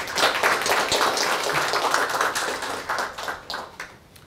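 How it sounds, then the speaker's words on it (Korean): An audience at a policy forum claps for an arriving speaker, a dense, steady round of applause that holds for several seconds and then gradually thins and fades. "큰 박수 부탁드립니다"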